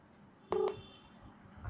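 A mobile phone plays a brief pair of dialing tones as a call is placed, short and clear over faint background hiss.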